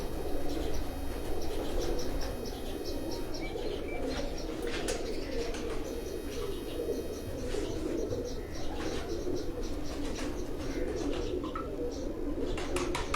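Soft, continuous cooing of several pigeons kept in a coop fills the background, with occasional chirps and light rustling, steady throughout.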